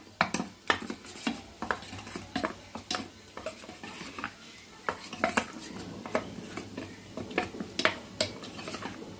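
Paneer curry masala with curd being stirred in a pan: a spoon repeatedly clinks and scrapes against the metal, in irregular close, sharp knocks over a soft sizzle, with no talking.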